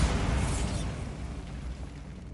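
A Bombarda spell goes off in Hogwarts Legacy as a single loud, deep blast right at the start, fading into a rumbling tail over two seconds, with no talking.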